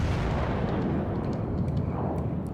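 Heavy guns of a Japanese premium battleship, the Ishizuki, boom in the naval game World of Warships, a loud sustained low rumble of salvo fire rolling on without pause.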